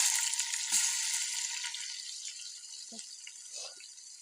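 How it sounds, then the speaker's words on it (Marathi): Chopped onion sizzles in hot oil with cumin seeds and curry leaves, a steady close hiss that eases slightly, with a few faint thumps from stirring. "जिरं कढीपत्ता टाकते आणि आता आपण कांदा भाजून घेऊया।"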